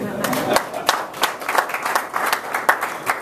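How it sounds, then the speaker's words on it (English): A crowd at a governor's Q and A session claps in a short burst of applause, individual hand claps distinct and scattered, fairly near and moderately loud. "Give him a round of applause."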